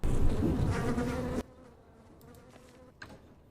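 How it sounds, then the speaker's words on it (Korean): Flies buzz in the video game Don't Starve Together, a moderately loud swarming drone for about a second and a half that then cuts off abruptly, leaving near silence with only a faint brief buzz afterward. "원래 파리소리 나거든요"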